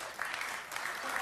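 An audience cheers and applauds in a played-back recording, a brief burst of steady clapping and crowd noise at an even level.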